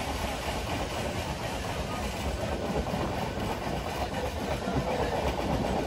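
The 12858 Tamralipta Express from Digha to Howrah passes through Nandigajan station, a steady loud rumble of rolling wheels and rail clatter throughout, with engine drone and no voices.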